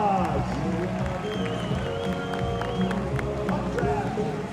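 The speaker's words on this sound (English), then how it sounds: "Give her a round of applause." A crowd at a balloon festival claps and cheers steadily throughout, with several voices talking and calling out over the applause.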